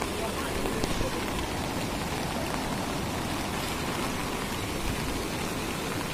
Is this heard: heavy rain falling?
yes